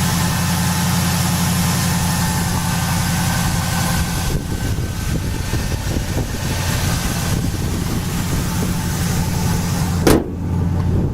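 The engine of a 1977 Pontiac LeMans runs at a steady idle with a loud, even rumble throughout, interrupted by a brief thump near the end.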